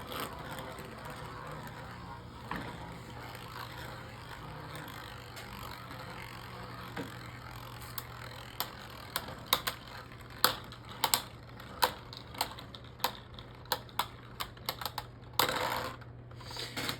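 Beyblade Micro Series tops Quetzalcoatl and Cyanax battling, one on an attack tip and one on a balance tip; a steady low whir gives way to sharp, irregular clicks of clashing that grow denser, with a brief scraping burst near the end.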